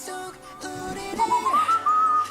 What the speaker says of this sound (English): I think it's perhaps the whistling.